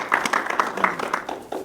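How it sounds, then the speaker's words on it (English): Audience applause for a presenter at a tech meetup session, a short burst of scattered clapping with uneven, fairly close claps over a couple of seconds. "can we get just one more round of applause for Greg?"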